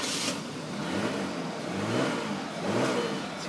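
A 2002 Audi A6 3.0 quattro engine, which smokes from the exhaust, runs steadily nearby, its low rumble rising and falling in a few gentle revs, with no talking.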